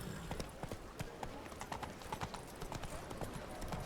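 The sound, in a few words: horse hooves clip-clopping in Witcher 3 video game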